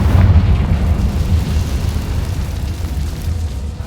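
A Confringo fire spell blasts in Hogwarts Legacy, a loud, deep rumbling explosion that hits hardest at the start and then rolls on steadily before slowly easing off.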